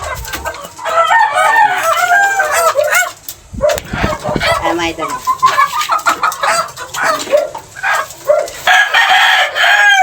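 Several roosters crow loudly and clucking hens are mixed in, with someone talking in Filipino over the birds.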